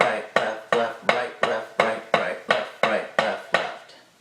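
Drum rudiments played as a steady run of about twelve sharp, evenly spaced strokes, single paradiddle-diddle and regular paradiddle sticking, each hit ringing briefly with a bright attack, close and alone with no talking.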